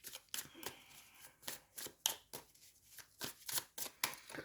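Seasonal fox tarot deck being shuffled, a quick series of soft, crisp card riffles and slaps in an irregular rhythm, close up and quiet.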